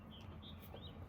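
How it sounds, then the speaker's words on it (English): A house finch sings faintly in the distance, a few thin, rising chirps over a soft background hiss. "Housefinch."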